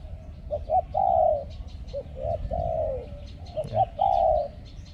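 A dove coos in repeated rounded hoots, a rhythmic phrase of short and drawn-out notes, close and clear over faint background noise.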